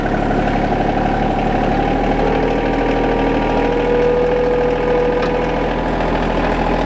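An RK24 tractor with a backhoe attached idles steadily as it slowly pulls away from the implement, a continuous, close, even engine rumble with no talk.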